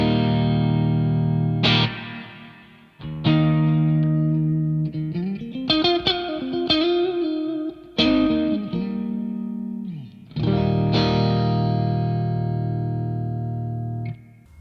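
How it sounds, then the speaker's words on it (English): Electric guitar played through a Strymon NightSky reverb pedal at a standard reverb setting: a few sustained chords and a short melodic bend, each ringing out with a long, lush reverb tail, loud and alone. "So as you can hear, it's a beautiful sounding reverb"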